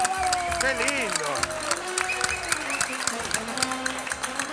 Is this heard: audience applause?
yes